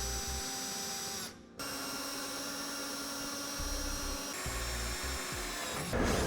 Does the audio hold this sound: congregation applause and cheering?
no